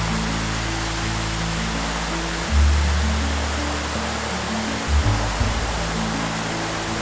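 Water rushing steadily over a spillway below an overhanging rock, a loud continuous broadband roar with a few low thumps, no voices.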